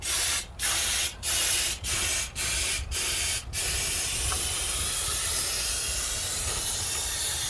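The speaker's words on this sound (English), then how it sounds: "we're going to try again soaking the head bolts even further to try and break up some of the rust that's holding things on." Penetrating oil sprayed from an aerosol can onto rusted head bolts of a 1954 Packard Cavalier engine left sitting since 1970: about six short, loud hissing bursts in steady rhythm, followed by a continuous broad background hiss.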